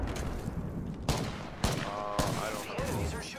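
Enemy gunfire in an Apex Legends match, several sharp bursts of shots cracking out about every half second, loud and close, with a faint voice underneath.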